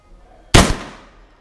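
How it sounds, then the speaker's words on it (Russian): A single close, loud shotgun report with a quick echoing tail, fired from an Ata Arms Neo 12 loaded with a Karat 12/70 slug. "Второй выстрел."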